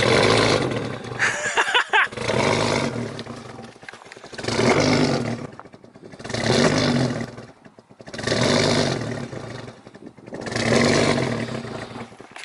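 An engine runs roughly after a cold start with a fuel supply problem, surging and fading in repeated deep swells about every two seconds, close and loud, as if struggling to stay running.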